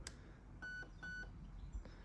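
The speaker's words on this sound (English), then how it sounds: "You hear 2 beeps, that means we selected the second subcategory" Two short electronic beeps from an airsoft HAL MOSFET/ETU unit being programmed, quiet and close, spaced about half a second apart in a near-silent room.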